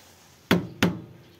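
Two sharp, close hammer taps land about a third of a second apart while tuning a Mustang Dingo 125 clutch, each ringing briefly against a quiet background.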